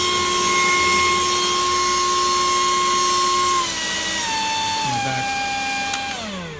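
A Makita electric leaf blower runs at speed setting 6 with a high, steady motor whine that drops in pitch in several steps toward the end, as if winding down.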